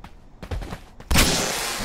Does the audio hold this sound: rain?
no